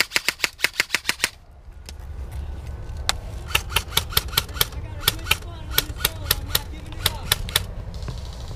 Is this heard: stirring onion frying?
no